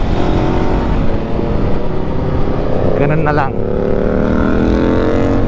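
A Voge 525 ACX motorcycle ridden fast through mountain twisties on the Dalton–Ambuklao–Baguio route, its steady engine drone buried in loud, constant wind roar while the rider talks over it.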